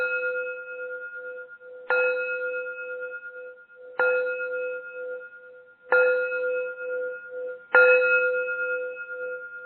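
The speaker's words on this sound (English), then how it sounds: "I'm going to chime the gong 5 times for you again." A gong struck five times at roughly two-second intervals, each stroke a bright metallic onset with steady ringing partials that sustain and slowly fade into the next, loud and close with no voices.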